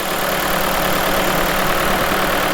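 A Ford Fiesta with 250,000 km on the clock runs at idle after a flush is added, giving a steady, loud, continuous engine drone with an even mechanical hum and no talk.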